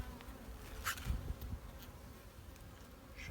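Honeybees buzz inside an opened hive during winter inspection in February, a steady close droning hum with a few louder passes from individual bees and no talking.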